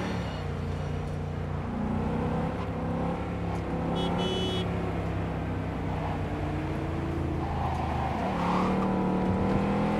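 Car driving in the video game Cyberpunk 2077, a steady engine drone that rises and falls in pitch as it speeds up and eases off, with a brief higher whine partway through, continuous and fairly close.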